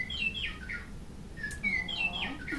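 Bright whistled meadowlark song in two short bursts of rising and falling phrases, moderately near, over a low steady background hum.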